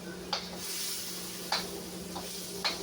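A pan of stir fry with carrots and ham sizzles with a steady hiss while a utensil scrapes and stirs through the food in a few brief strokes.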